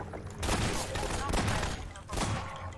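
Rapid bursts of gunfire in Half-Life 2, several dense volleys over a few seconds, moderately loud, with someone speaking German over the shooting.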